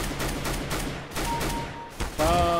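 Repeated SCAR-20 semi-automatic sniper rifle shots ring out in Counter-Strike: Global Offensive, loud and close in a rapid uneven series, followed by a brief tonal game chime at the end.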